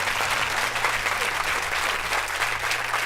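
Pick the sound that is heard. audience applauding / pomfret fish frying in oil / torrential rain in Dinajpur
audience applauding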